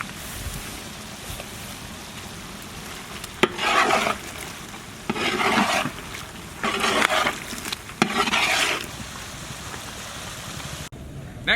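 Chicken for biryani frying in a pan, with a steady low sizzle and several bursts of scraping and stirring spaced a few seconds apart, close and moderately quiet.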